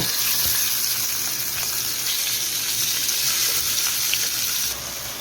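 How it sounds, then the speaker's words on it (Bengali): Tilapia fish frying in hot oil gives a dense, steady crackling sizzle close up, loud and continuous, dropping slightly in level near the end, with no talk over it. "এখন মাছটারে বেজে নেব দেখা তেলাপিয়া মাছটা সুন্দর করে বেজে নেব"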